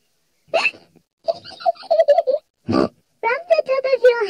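Cartoon piglet George from Peppa Pig gives a few short, sharp hiccups that punctuate childlike voices and grunting chatter, each hiccup a brief loud burst between stretches of talk.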